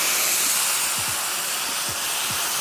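Pink oyster mushroom meat sizzling in a hot pan, a steady broad hiss of frying with a few faint clicks and scrapes, fairly close and continuous with no talking.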